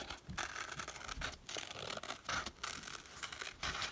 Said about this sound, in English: My paper is moving with the scissors.